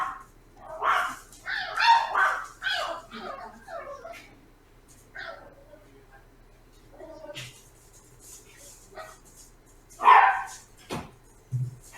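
Dogs indoors let out intermittent barks, yips and whimpers in irregular bursts, some close and loud and others softer, mixed with people talking.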